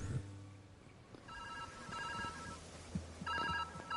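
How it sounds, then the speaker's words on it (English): A telephone rings in the puzzle video game Viewfinder, several trilled electronic ring bursts at a steady rhythm, moderately faint against a hissy background. "Where's the phone?"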